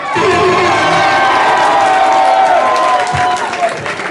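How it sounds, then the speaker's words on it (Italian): A large crowd applauds and cheers loudly at a 2019 street music event in San Giovanni Suergiu. Dense clapping and shouting run continuously, with a tonal voice or music line carrying through the noise. "fatevi un applauso al mio 3, 1, 3!"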